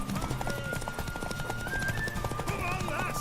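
Horse hooves clip-clop at a steady trot with a brief whinny, set in The Witcher 3 video game, mixed under game music and overlapping character speech.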